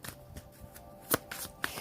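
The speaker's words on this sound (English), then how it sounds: "I pre-shuffle the cards and kind of meditate on the cards" Tarot cards being shuffled by hand: soft riffling rustles followed by a few sharp, crisp card snaps close up, irregular and brief, with no talking.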